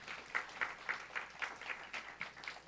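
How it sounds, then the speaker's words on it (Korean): A church youth congregation gives a round of encouraging applause, heard faint and distant as a soft patter of scattered claps with a few sharper hand strikes standing out. "격려의 박수 한번 부탁드립니다"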